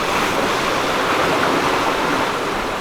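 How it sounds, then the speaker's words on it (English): Wind and breaking waves rush steadily and loudly around a Beneteau sailboat crossing the Bay of Biscay, a dense continuous roar with wind buffeting the microphone and no voices. "It's pretty windy."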